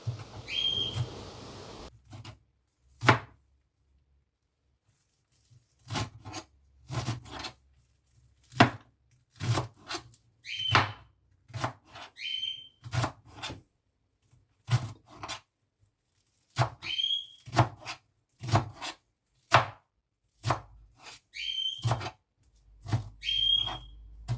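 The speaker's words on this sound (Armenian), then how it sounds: "Լավ կմանրացնեմ։" Fresh garden-picked basil, dill, marjoram, cilantro and parsley being chopped with a knife on a board, sharp rhythmic thuds in quick bursts separated by pauses, close and clear, with faint whistling in the background.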